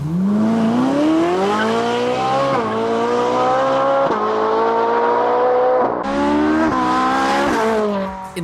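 A Ferrari supercar's flat-plane-crank 4.5-liter V8 revs hard and loud, pitch climbing through several gear changes in a continuous high-pitched wail.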